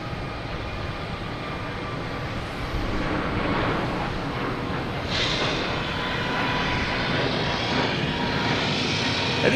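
An Aer Lingus jet airliner at Boston Logan Airport roars loudly and steadily, its broad engine rumble building slightly over the span with no talk.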